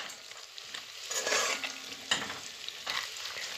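Food frying in a pan being stirred, a loud close sizzle with a few sharp scraping strokes of the utensil across the bottom, heard alone.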